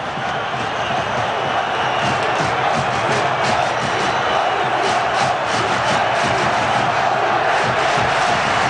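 A large football stadium crowd roars in sustained, dense fury, a loud continuous wall of voices with shouts and whistles rising throughout and no break.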